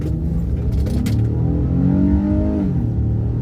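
Honda Ridgeline pickup truck with VTEC engine, about 4,500 pounds, accelerating hard, engine note rising in pitch through the revs with a steady low rumble, heard from inside or close by.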